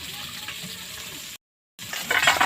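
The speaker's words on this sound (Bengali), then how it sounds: "চারাপোনা মাছটা আমি ভেজে নিচ্ছি" Small rohu fish (charapona) frying in hot oil gives a steady, close sizzle. It cuts to silence for a moment, then returns as a louder, brighter crackle.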